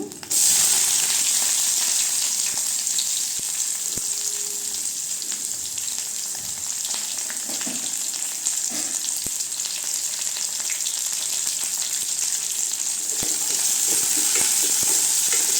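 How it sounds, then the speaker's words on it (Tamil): Onions, cinnamon, cloves and curry leaves fry in oil for a spiced liver fry, a steady high sizzling hiss with a few stirring knocks and clicks, close by and uninterrupted by talk. "வெங்காயம் நல்லா வதங்கட்டுங்க"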